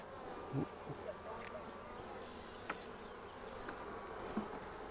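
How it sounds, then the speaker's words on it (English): Bees buzz steadily around a nuc beehive on a farm, a continuous close hum with a few individual insects flying nearer and briefly louder. "Look at this pretty little black striped bee."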